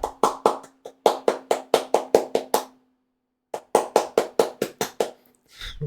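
A single person clapping hands close by, a steady run of about a dozen sharp claps, a pause of roughly a second, then another burst of about eight, ending with a brief rustle. No one speaks.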